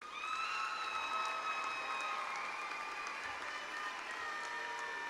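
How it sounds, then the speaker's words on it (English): A graduation audience at a university spring commencement applauds in a sustained, moderately distant wash of clapping, with scattered whistles and cheers rising above it. "Please honor these graduates with a round of applause."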